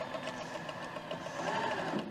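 An electric sewing machine runs steadily through fabric, a continuous mechanical hum with rapid needle rhythm, close by and fairly quiet with no voices.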